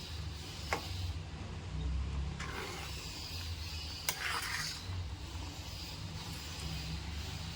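Vermicelli is stirred into mutton keema biryani in a cooking pot, giving a soft continuous scraping and shuffling with a light sizzle and a few sharper clinks of the spoon against the pot.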